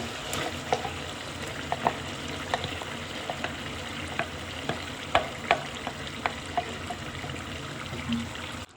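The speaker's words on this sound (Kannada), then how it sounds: "ಈಗ ನಾವು ಮಿಕ್ಸಿಗೆ ಹಾಕ್ಕೊಂಡಿದ್ದು ಗ್ರೇವಿನ ಹಾಕೊಳ್ಳೋಣ." Ground mint gravy paste hitting hot oil with cooking chicken in a pan, giving a steady soft sizzle with scattered sharp crackles and pops across the whole stretch, with no talk.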